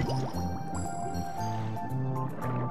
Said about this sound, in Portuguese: e a água sobe.